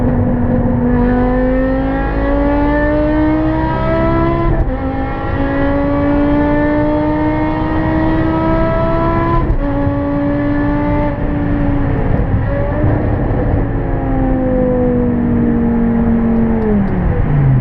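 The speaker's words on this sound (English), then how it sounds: "It's important to note how fast this car shifts at the absolute limit." A BMW E60 M5 engine revs hard and climbs in pitch, dropping sharply at each quick gear shift before pulling again, loud and continuous throughout.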